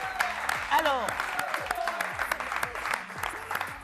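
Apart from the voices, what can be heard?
audience applauding two hostesses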